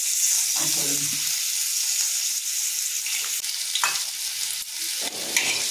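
Washed moong dal frying in hot oil with a bay leaf, a continuous bright sizzle broken by several scraping stirs of a spatula, heard up close and without speech.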